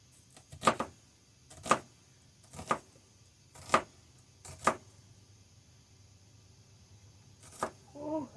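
Knife chopping a red onion on a board: five evenly spaced sharp cuts about a second apart, then a pause and one more cut, close and clear against a quiet background.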